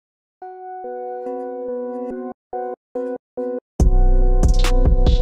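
An FL Studio beat plays sustained synth chords that a 1-beat gate effect chops into choppy bursts, then drums and the full mix crash in loudly near the end.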